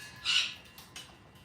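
A pet parrot, one of a household flock of macaws, African greys and cockatoos, lets out a single loud, harsh squawk up close, followed by a couple of fainter chirps.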